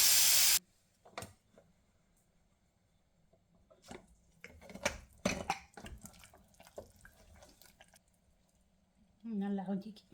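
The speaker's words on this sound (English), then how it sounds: "we're going to let it cook in a pressure cooker for about 45 minutes for the lamb feet to cook" A pressure cooker holding lamb feet gives a short, loud burst of steam hiss at the start. Quiet kitchen clatter follows, and another strong tonal burst comes right at the end.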